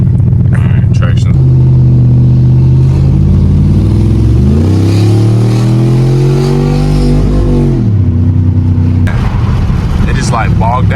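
A 2006 Dodge Charger Daytona with a HEMI V8 revs hard, its loud engine note climbing and falling in a sweeping rise before settling back to idle, with crackling pops near the end; a voice talks over part of it.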